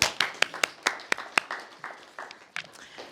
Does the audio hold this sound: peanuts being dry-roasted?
no